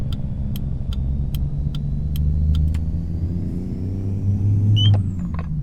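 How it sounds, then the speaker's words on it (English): A Cummins N14 diesel engine in a vintage Peterbilt truck in American Truck Simulator, running empty, drones low and steady with a continuous rumble, rising slightly in revs, alone and close with no voices. "I'm gonna get the windows down so we can hear that nice engine. That Cummins N14."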